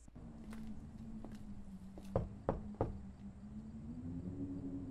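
Knocking on a door in the horror game Remothered: Tormented Fathers: three sharp, evenly spaced knocks in the middle, over a low steady hum and faint ambient clicks, with no talk.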